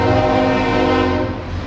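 A southbound CSX coal train rolls through Marion, Ohio, its locomotive horn blaring loud and close in one sustained blast over the rumble of the train.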